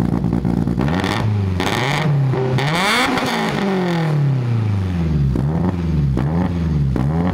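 A Beams-swapped BMW E30 running resonators in its exhaust revs up and down repeatedly, its deep, rising and falling engine note loud and close with some mechanical clatter.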